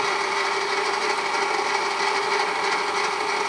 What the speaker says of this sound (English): First of all, turn on the motor.